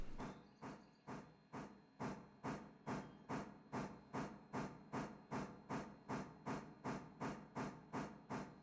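Steam locomotive in the Railroader video game chuffs from its stack in a steady, evenly spaced rhythm of deep, hissing exhaust beats that quicken slightly, faint and alone.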